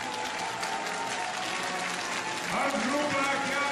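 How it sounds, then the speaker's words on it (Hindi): Steady applause from a crowd at a Punjabi music show in Belarus fills the whole clip, with a tonal voice or music rising briefly near the end. "तालियों के गड़गड़ाहट से पता लग रहा है"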